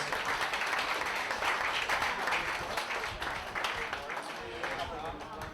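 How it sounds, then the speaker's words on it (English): Audience giving a round of applause at a fundraising event, a busy burst of many hands clapping that carries through the clip and tapers slightly toward the end. "can we have a round of applause for the work that Morgan's been doing in building those bridges"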